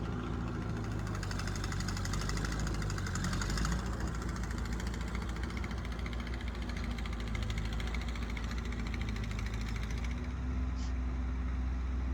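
A Ford 8N tractor engine chugs steadily while plowing a small garden, a loud, close, continuous mid-pitched rumble with knocking texture and no voices.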